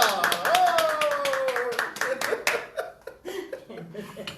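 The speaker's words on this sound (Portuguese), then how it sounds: "Vamos aplaudir!" A church congregation claps together for a cooperator stepping up to give her testimony: a dense burst of hand claps with a rising voice and chuckles mixed in, thinning out toward the end.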